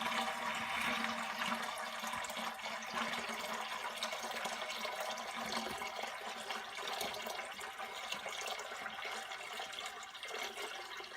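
Water runs steadily into a container hung from a 3D-printed chain during a strength test, a continuous soft pouring and filling hiss that holds for several seconds with no talk over it.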